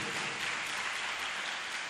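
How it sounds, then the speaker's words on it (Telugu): A congregation at a church service claps its hands together, making a steady, dense wash of applause that sounds somewhat distant and soft. "Clap to Jesus once."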